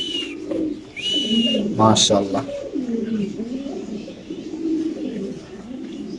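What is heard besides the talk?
cooing call of Afshan grizzle Spanish pigeons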